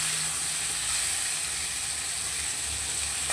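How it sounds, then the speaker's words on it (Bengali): Raw green banana with turmeric-coated potato and papaya fries in a pan, giving a loud, continuous close-up sizzle with a steady hiss and no voices. "কাঁচকলা দিয়ে দিলাম। এবার এগুলোকে একটু নেড়ে চেড়ে নেবো, খুব বেশি ভাজবো না।"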